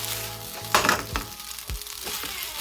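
Dumplings tossed with pasta in a frying pan give a soft sizzle under a few scraping, clattering stirs of a utensil against the pan, close and fairly quiet.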